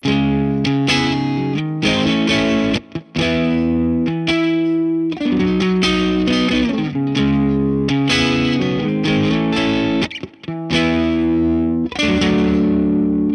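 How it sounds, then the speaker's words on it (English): Electric guitar played through an AmpliTube 5 Tube OverDrive pedal, loud distorted chords and sustained riffs with short pauses between phrases, no talking. "Let's try this Tube OverDrive."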